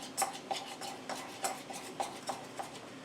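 A spoon stirs peanut butter and sugar in a bowl, giving soft scraping strokes with light clinks against the side, about six evenly spaced passes, close and quiet.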